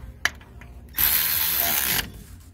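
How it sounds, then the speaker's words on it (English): A ratchet wrench tightening a differential cover bolt to 33 foot-pounds: one sharp click, then a second of rapid, loud, close ratcheting that stops abruptly. "So what you wanna do is basically start tightening from the top all the way"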